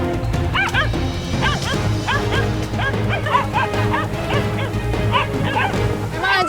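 Several hunting dogs bark, yip and whimper excitedly around a captured wild boar, rapid overlapping barks close by against a busy outdoor backdrop.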